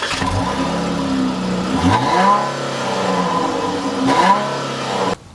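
A 2014 Chrysler 300C AWD's V6 engine revs hard several times, pitch sweeping up and settling between pulls, then cuts off abruptly at the end.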